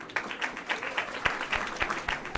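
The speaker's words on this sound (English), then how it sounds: "That only got a clap out of me, not a cheer." Clapping in the western point-and-click game Rosewater, a short run of scattered claps, moderately quiet and close.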